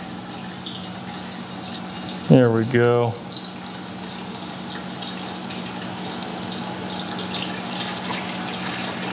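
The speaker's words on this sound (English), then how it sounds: "Get some water in here." Water from a household well is poured steadily into a container aboard a houseboat, a continuous close splashing flow that runs under a brief spoken remark.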